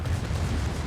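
Montana battleship secondary guns fire in naval combat against a destroyer, a heavy rumbling boom with a rolling low-end tail, loud and dense, and no voices.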